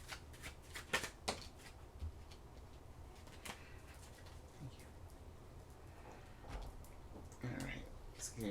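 Oracle cards being shuffled by hand, a close, irregular riffle of papery flutters and soft slaps spread across several seconds with a busier burst near the end, no speech over it.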